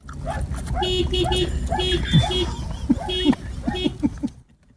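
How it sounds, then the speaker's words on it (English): A dog left in a car parked outside a sandwich shop in Grove City, Ohio sets off the car horn in repeated short toots mixed with its own whines and yelps, over a steady background of broadcast chatter. "now what you're hearing, radio listeners, you're hearing some honking"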